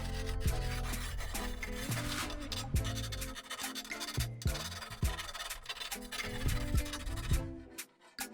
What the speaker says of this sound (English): I use the file to round over the sharp edge.